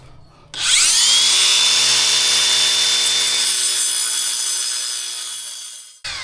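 A power saw cuts joints into a pool deck surface, a sharp whining bite that starts abruptly, holds loud and steady for about five seconds with gradually falling pitch, then stops.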